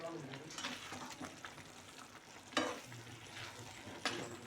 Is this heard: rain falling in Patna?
no